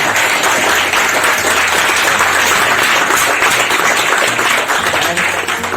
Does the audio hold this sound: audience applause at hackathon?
yes